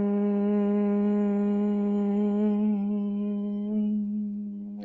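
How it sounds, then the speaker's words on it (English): A single person hums a long, steady exhale with the lips closed during Bhramari bumblebee breathing in a yoga session. The close, buzzing hum holds one pitch and slowly softens toward the end. "which is translated as bumblebee breath because that's the sound it makes"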